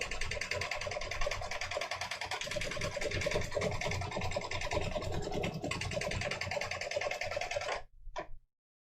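An embroidery machine stitches a quilted shell design onto sand dollar print fabric, a steady rapid mechanical whirring and chattering that runs continuously at close range before stopping abruptly near the end, followed by a few brief clicks.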